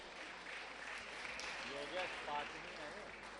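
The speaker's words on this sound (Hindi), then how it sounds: "आप जोरदार ताली बजाकर का सम्मान करें।" Crowd at a Jain religious gathering with a monk applauds, a faint, steady wash of clapping heard at a distance with a voice speaking over it partway through.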